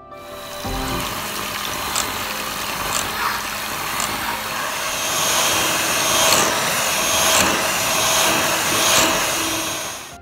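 An electric mixer whips egg whites with a pinch of salt for a Christmas chocolate yule log, giving a steady close whirring drone with a watery, wet texture that swells slightly midway and runs unbroken with no talk.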